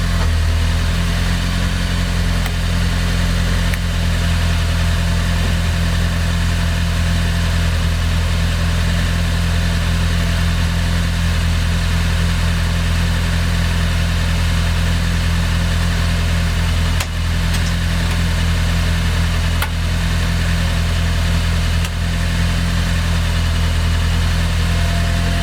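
A parked car idles steadily with its center-mounted radiator fan running, a constant loud low hum and whirring drone with no talk, broken only by a couple of faint clicks.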